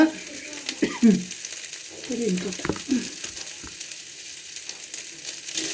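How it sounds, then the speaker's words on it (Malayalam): Coconut pieces frying in a pan for a Perumbavoor-style beef fry: steady sizzling and crackling oil with a few stirring scrapes early on, fairly close and moderate in level, without any talk. "അപ്പം നമ്മുടെ തേങ്ങാക്കൊത്തൊക്കെ അതിൽ കിടന്ന് നല്ലോണം ഫ്രൈ ആയിട്ടുണ്ട്"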